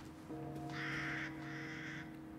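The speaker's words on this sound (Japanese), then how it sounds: "カラスまだ生きてるカラス" A crow caws twice in the Resident Evil Village video game, two harsh drawn-out calls in quick succession over a low steady background hum.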